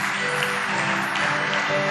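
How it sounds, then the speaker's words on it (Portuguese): A church congregation applauds, a brief dense wash of steady clapping from many hands that sounds full and continuous, with a faint sustained musical tone underneath. "Comece a aplaudir a Jesus pelo poder da vida."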